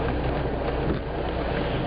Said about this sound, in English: And we got rain, and we got Friday traffic here.